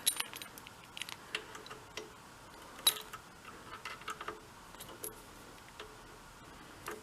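Keys jangle and clink in light, irregular bursts while being tried in the locks of a Hyosung Aquila motorcycle, close up, with sharp metallic ticks over quiet background.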